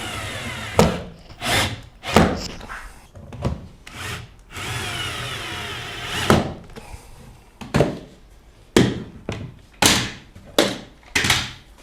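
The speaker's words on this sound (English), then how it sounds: "So now I can screw these together." Screws being driven to join wooden guitar body pieces, a run of sharp, loud bursts of driving and creaking wood at irregular intervals, close by with no talking.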